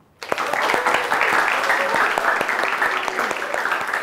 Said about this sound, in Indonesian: Sekali lagi kita beri tepuk tangan.